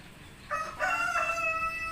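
A rooster crows on a farm, a single loud, drawn-out cock-a-doodle-doo rising after a brief pause and holding steady to the end, close by with no talk over it.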